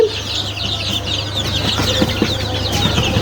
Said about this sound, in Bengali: এই যে মুরগি বাচ্চাগুলো দেখতে পারতেছেন